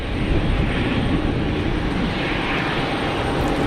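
A jet airliner, likely an Embraer E2, holds at the start of its takeoff roll at Geneva Airport, its engines giving a steady, loud broadband roar that stays even throughout.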